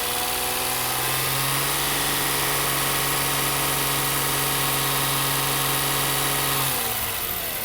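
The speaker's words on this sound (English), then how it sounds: "I'm gonna go ahead and start revving my engine" Car engine revved during a charging system check, held at a steady raised pitch for several seconds before dropping back toward idle near the end, loud and close with no talking.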